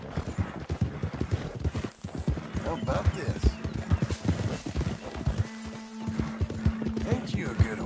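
Horse hooves clip-clop in a steady, close rhythm in Red Dead Redemption II, with a whinny and snorts in between while someone talks over them.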